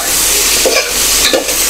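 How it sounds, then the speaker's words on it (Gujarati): Onions, tomatoes and chillies fry in a pan with a loud, continuous sizzle, broken by two quick scrapes of a stirring spoon. "તો હવે આપણે તેમાં ટામેટાં અને મરચાં નાખી દઈશું. તો તેને પણ આપણે સારી રીતે મિક્સ કરી લઈશું."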